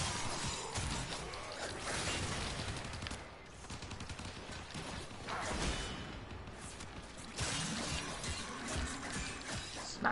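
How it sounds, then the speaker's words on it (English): Glass shattering in the Warframe video game as frozen enemies are smashed, bursts of crunching breakage and clattering shards mixed with rapid gunfire-like cracks over a dense, busy game soundscape. "I'm just smashing some glass"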